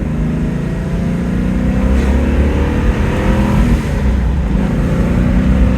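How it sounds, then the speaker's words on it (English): Porsche 928 GTS V8 engine revving hard under acceleration, a loud, continuous roar heard from inside the car, climbing steadily with no talking. "Let you hear the engine a little bit more."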